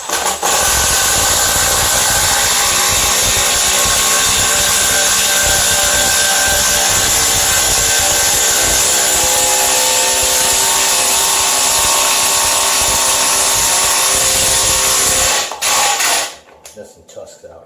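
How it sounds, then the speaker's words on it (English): Impact gun driving lag bolts into wood while building a weight bench: a loud, steady rattling mechanical hammering close by that runs for about fifteen seconds and then stops abruptly. "we're going to switch to the impact gun and put those lags in"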